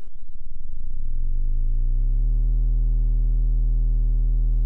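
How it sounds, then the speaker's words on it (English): A low synthesizer tone modulated by a triangle LFO that starts pulsing quickly, slides downward, then settles into a steady deep bass hum, alone and fairly soft. "Then I want to go down here to the triangle LFO"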